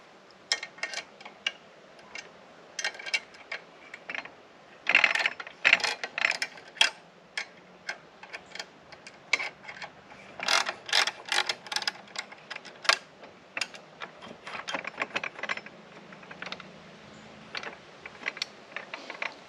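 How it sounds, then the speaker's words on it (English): An Alaskan chainsaw mill platform is raised on its post, giving sparse, faint metallic clicks and ratcheting taps that come in uneven bursts, close by and quiet, with no talk. "Now I'll raise the platform up to 4 inches."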